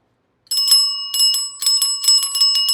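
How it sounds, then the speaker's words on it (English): Bicycle bell on an auction motorbike rung in three quick bursts of bright metallic trills, close and loud, with no talk over it. "Shall I try the bell?"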